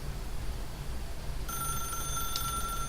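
A telephone rings inside the video game The Stanley Parable, heard as a steady electronic bell tone that starts partway through and continues alone over a low background hum.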